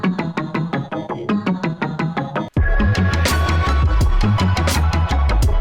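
Three synth pluck layers built from a sample play stacked together, a bright rhythmic run of short evenly spaced plucks, then a denser, fuller section with heavy low end after a brief dropout.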